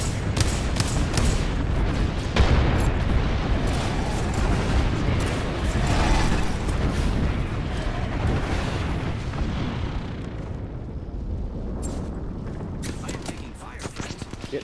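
Sticky grenade blast and heavy gunfire in a video game firefight, a loud, continuous roar of explosions and shots that thins toward the end into scattered cracks, with voices under it.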